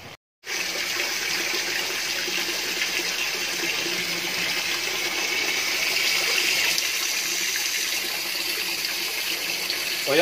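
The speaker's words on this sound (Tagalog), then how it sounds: "yan po yung tubig namin na lumalabas dito" Dirty tap water running from a kitchen faucet, a steady close-up gushing stream that starts after a brief pause and continues evenly, with no talking.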